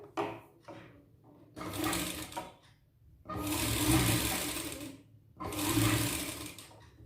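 A sewing machine stitches a fabric strip onto a three-piece princess blouse, running in a few short stuttering bursts and then three longer whirring runs separated by brief pauses, fairly quiet and close.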